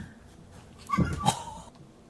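A dog gives a brief high whine and a couple of soft yips, close by and fairly quiet over low room noise.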